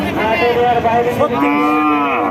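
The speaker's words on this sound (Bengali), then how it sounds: "শুনলেন দর্শক চার দাঁতের সার গরু" A four-toothed cow at a cattle market lets out a loud, drawn-out moo close by, with faint crowd noise around it.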